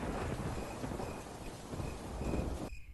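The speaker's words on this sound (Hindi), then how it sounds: "बरसात को मौसम चालू हो चुका है" Thunder rolls through steady heavy rainfall on a June night at the start of the rainy season, a dense continuous roar that cuts off abruptly near the end.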